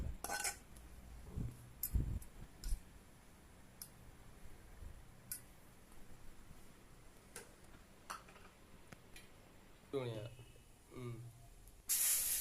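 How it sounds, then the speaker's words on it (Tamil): Dosa batter spread thin on a hot pan gives off a faint, soft sizzle and hiss, with a few light metallic clinks from utensils and a louder hissing burst near the end. "தோசையை வந்து நல்லா நைஸாக ஊற்றி ரெடி பண்ணியாச்சு"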